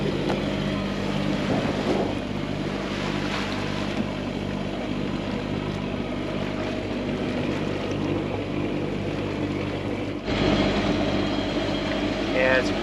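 A sailboat motoring under engine power on the open sea in light wind, with a constant low engine drone and water rush running throughout and a voice heard faintly at moments.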